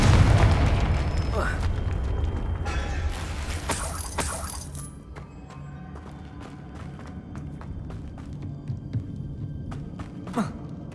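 A Confringo fire-spell blast in Hogwarts Legacy, a loud booming burst with crackling debris at the start, then quieter scattered clatter and small pops afterward.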